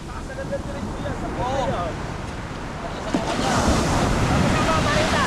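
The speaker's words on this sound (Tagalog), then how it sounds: "May bagsak, o lalaki ng bagsak ng alon." Ocean surf rolls and breaks steadily under strong wind noise, with a louder surge of crashing water building in the second half.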